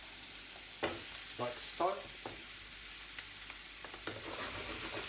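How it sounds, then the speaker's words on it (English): Chopped celeriac drops into a pan of onions frying until translucent, several soft clattering thumps over a steady low sizzle, close by, with a brief spoken phrase in between. "Now I'm going to drop the celeriac in the pan"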